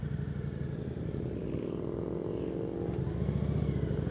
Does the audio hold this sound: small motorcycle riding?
yes